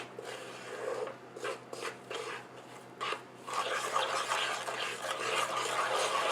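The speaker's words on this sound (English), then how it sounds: "So just keep stirring." Gund stirred in a pot of hot ghee, a soft scraping and rubbing of spoon against pan, close and quiet, steady with short pauses, then growing busier.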